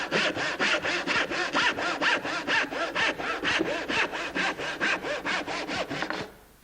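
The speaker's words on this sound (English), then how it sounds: "using our Tenon Saw" A tenon saw cuts through wood in fast, even back-and-forth strokes, a close rasping rhythm of about twenty strokes that stops abruptly at the end.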